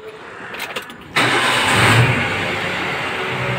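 Car engine starting on a morning, a few quiet clicks and cranks and then a sudden loud catch, briefly revving before settling into a steady, close idle.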